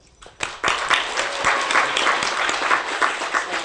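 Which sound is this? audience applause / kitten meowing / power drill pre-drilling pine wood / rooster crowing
audience applause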